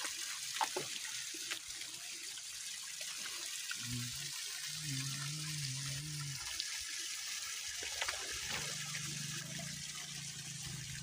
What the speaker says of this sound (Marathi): बोरचं पाणी पडत आहे डोक्यात